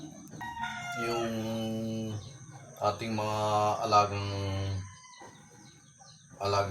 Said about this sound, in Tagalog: Ang ating mga sisiw nag-iiyakan na po dahil siguro nagugutom na po sila.